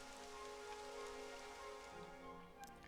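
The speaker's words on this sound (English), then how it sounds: "It would have to go and start raining, wouldn't it?" Rain falls in the video game Dragon Quest XI S, a constant soft patter of drops on surfaces layered under steady tonal game music, quiet and continuous throughout.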